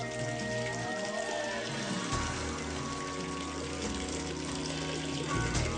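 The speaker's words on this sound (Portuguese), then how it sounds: "A água corre por 1 quilômetro ao longo dessa tubulação até chegar ao castelo." Water running through an ancient underground channel in a tunnel on Samos, a steady trickling and pouring wash with faint drips and a low hum beneath, continuous throughout.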